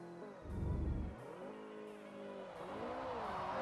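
A car drifts through a corner, its engine revving hard and falling away in sweeping pitch changes. A deep, loud surge comes early, then further rising and easing revs follow, with no talking.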